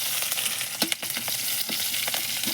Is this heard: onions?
yes